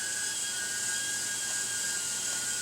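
Eachine E010 micro quadcopter, a small ducted-fan drone, hovering hands-off, giving a steady high-pitched whine with a sustained tonal buzz and no pauses.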